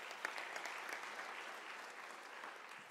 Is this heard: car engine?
no